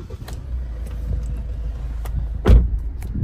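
The diesel engine of a 2016 Kia Sportage SLI AWD wagon turns over and settles into a low, steady rumble, with a sharp thump partway through, heard close and fairly loud without talking.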